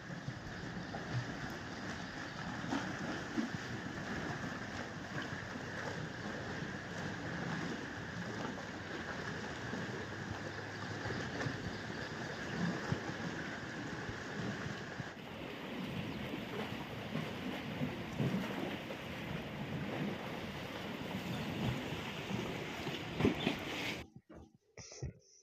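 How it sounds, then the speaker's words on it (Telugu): Floodwater of the Godavari river at Dharmapuri surges over a submerged cremation ground, making a continuous broad rushing roar that stays even and moderately loud for over twenty seconds before cutting off abruptly. "ఈ విధంగా వాటర్ వస్తుంది."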